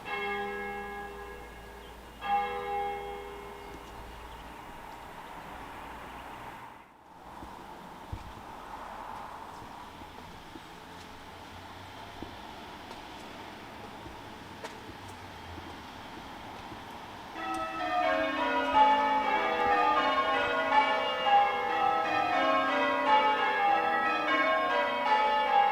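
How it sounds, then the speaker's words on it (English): Church bells of St James the Great in Dursley, starting as a few scattered strikes over quiet street ambience, then breaking into a loud, full peal of overlapping changes in the last stretch. "didn't plan the timing of the church bells"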